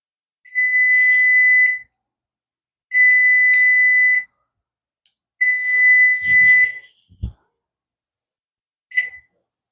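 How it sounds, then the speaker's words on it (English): Kitchen oven timer beeping while meatloaf bakes, three long steady electronic beep bursts about a second each, then a shorter one, fairly loud and close, with a brief clatter of handling in between. "once the timer goes off, we're going to check and make sure it's up to temp"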